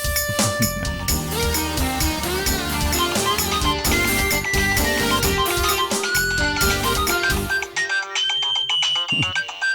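A mobile phone rings with a melodic ringtone for an incoming call, a bright tune that plays loud and continuous for about ten seconds, with no voices over it.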